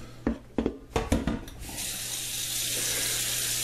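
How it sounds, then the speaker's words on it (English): Tap water runs steadily into a pot of peanuts set to be boiled, a broad rushing stream that settles into an even flow after a few clattering knocks at the start. "Fill this thing up with water."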